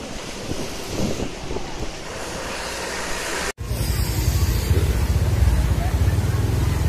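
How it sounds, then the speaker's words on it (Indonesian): Floodwater rushes through flooded streets in Pontianak, a broad steady roar mixed with wind buffeting the microphone, briefly cutting out midway before returning louder and fuller. "Airnya sangat deras nih, tak berhenti-henti nih airnya nih."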